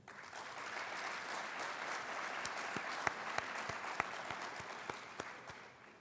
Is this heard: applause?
yes